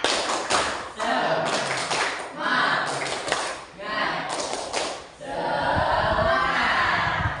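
Tepuk semangat clapping chant performed by children in a class, rhythmic group claps mixed with loud chanting voices and a leading adult voice, continuous and close with short pauses.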